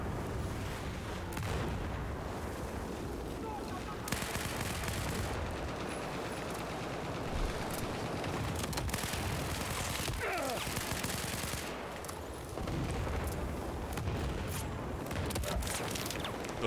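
Gunfire in a video game at E3 2018, a steady stream of rapid shots and bursts over a noisy backdrop, moderately loud and continuing throughout with no clear pauses.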